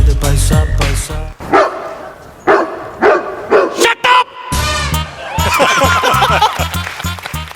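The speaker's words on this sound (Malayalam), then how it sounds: "നമ്മളല്ല കുറച്ചത് പട്ടി." A dog barks in several loud, sharp bursts, first in quick succession and then again in a rhythmic run near the end, while people talk nearby.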